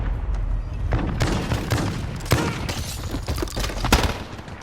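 Rapid bursts of shotgun fire in Call of Duty Modern Warfare, loud and close, with several sharp blasts and a dense crackle of overlapping gunfire over a few seconds.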